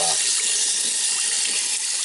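Water squirts hard from an RV water heater tank during anode rod replacement, a loud, steady hissing gush that runs close and unbroken for the whole stretch.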